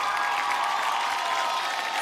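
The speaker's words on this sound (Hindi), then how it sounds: "जोरदार तालियां इनके लिए।" Audience applause for performers on a stage at a fair talent show: a dense, steady patter of many hands clapping, sustained and even throughout.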